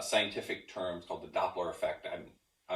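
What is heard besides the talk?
No everyday noise stands out behind the speech.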